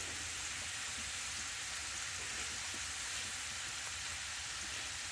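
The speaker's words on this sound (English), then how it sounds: "Got the tortillas a little smaller, kind of in chips. And fry these up." Tortilla pieces cut into chips fry in a pan with a faint, steady, even sizzle, continuous and without any talk.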